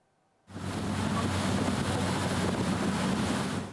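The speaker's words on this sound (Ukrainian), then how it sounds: "Броньовані катери проєкту CB-90 шведського виробництва здатні виконувати круті" A Swedish-made CB-90 armored patrol boat runs on open water, starting abruptly after near silence into a loud, steady roar of engine, wind buffeting and rushing spray that holds to the end.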